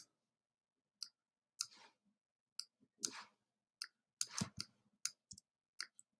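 Mouse clicks during vector editing in Gravit with the sub-select tool: sparse, crisp single and double clicks spaced irregularly over quiet silence, close and fairly faint, no talking.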